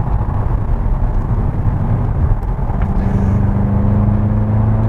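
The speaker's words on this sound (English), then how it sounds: "on this road, okay, it's bobbing around a bit, but it's pretty well controlled." A Skoda Octavia vRS travels along a road, heard from inside as a loud, steady low engine and road rumble with tyre roar, holding an even level throughout, without talking.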